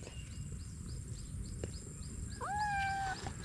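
A single drawn-out cat meow, fairly faint, over a low background rumble and soft outdoor noise in an eggplant garden.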